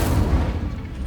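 An Incendio fire spell bursts in Hogwarts Legacy as a loud, dense whoosh with a booming low end that holds for about a second, with no talk over it.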